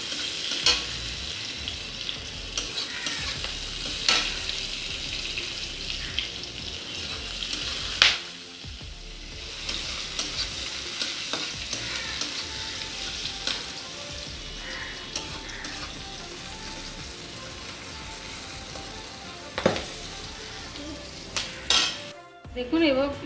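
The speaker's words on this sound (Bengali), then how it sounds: "একটু নাড়িয়ে ভাজা ভাজা হয়ে গেলে" Chopped garlic and green chillies frying in a pan for a mustard pabda fish curry, with a constant sizzle, intermittent metal spatula scrapes and clinks against the pan, and a brief quiet gap near the end.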